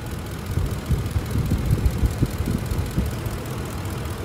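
Ford 5.4 liter three-valve V8 idling after a timing job repair, a steady low rumble with soft rhythmic pulses, close and alone with no talk.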